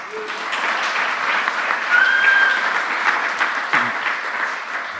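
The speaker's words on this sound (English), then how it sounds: "So please give a warm round of applause." A conference audience at a Python programming talk gives steady, sustained applause, a continuous wash of many hands clapping at moderate distance for about five seconds with a brief chirp above it.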